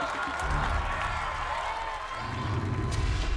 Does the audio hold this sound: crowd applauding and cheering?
yes